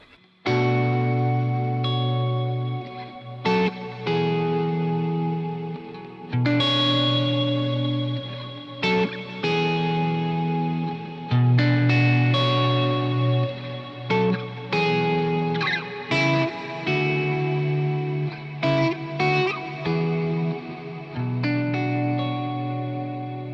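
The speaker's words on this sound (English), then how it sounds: "brings in a massive reverb" Electric guitar lead tone played through a massive reverb setting selected as scene 5 on an AirStep foot controller, sustained distorted notes and phrases blooming into long washy tails that fill the gaps between lines, loud and alone without talk.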